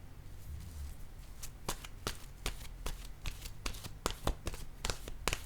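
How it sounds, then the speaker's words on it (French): Oracle cards being shuffled by hand, a run of crisp, close riffling snaps in an uneven rhythm that grows denser toward the end, with faint low background hum and no talking. "Je vais piger une carte de mon oracle de l'âme intuitive."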